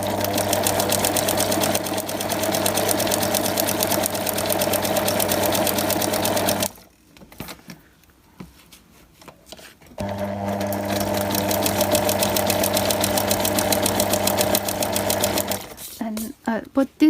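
A sewing machine stitches a quilted fabric heart onto corrugated cardboard, its fast, even mechanical chatter running loud and close in two long bursts separated by a few seconds of near-quiet handling.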